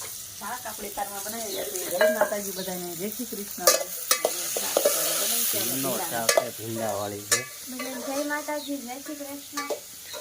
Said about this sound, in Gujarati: અત્યારમાં ભાઈ તો શાકનો વઘાર થઈ રહ્યા છે